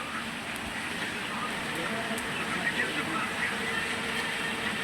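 Light rain starts up again in a steady, soft hiss of falling drops on outdoor surfaces, continuous and even throughout, with a voice speaking over it.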